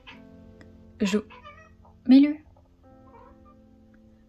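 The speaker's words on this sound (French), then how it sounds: "vous allez entendre Mélu miauler" Mélu the cat gives two short, close meows, the second louder, while someone speaks quietly between them.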